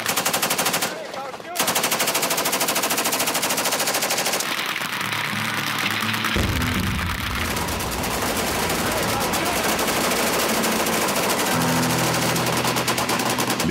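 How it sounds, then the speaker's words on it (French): Firearms at an Alabama shooting club, loud close-range gunfire rattling in rapid bursts that run almost without pause, with one brief gap and a few heavier booming shots mixed in. "Les clubs de tir tels que celui-ci permettent d'essayer une grande variété d'armes à feu."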